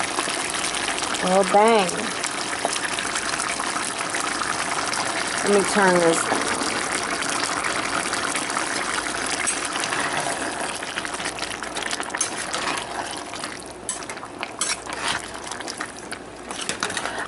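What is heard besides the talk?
tomato sauce being poured into a pot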